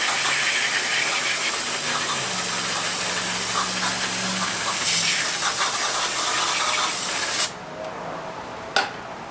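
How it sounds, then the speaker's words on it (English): Brake cleaner sprayed from an aerosol can onto old engine bearings in a garage, a loud continuous hiss held for several seconds before it cuts off abruptly, followed by one short final burst. "I'm gonna go ahead and clean them off with some brake cleaner."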